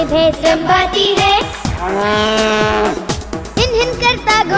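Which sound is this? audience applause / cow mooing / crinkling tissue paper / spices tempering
cow mooing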